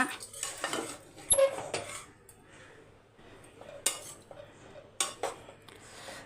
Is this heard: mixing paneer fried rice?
yes